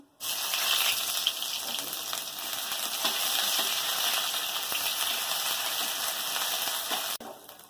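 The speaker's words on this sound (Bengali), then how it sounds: "রসুনটা ভাজা হয়ে গেছে" Garlic cloves frying in oil with a chilli, bay leaf and ground five-spice tempering for a home-style fish curry with cauliflower and potato, a loud, close, continuous sizzle that cuts off abruptly near the end.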